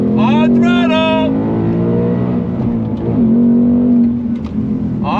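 A 2024 Ford Mustang Dark Horse with a 6-speed manual accelerates hard on a race track, its engine note loud and steady and rising in pitch, with a brief shift dip and a person speaking over it at the start.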